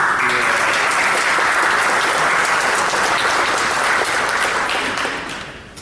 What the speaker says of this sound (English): I propose we give a round of applause to the two recipients.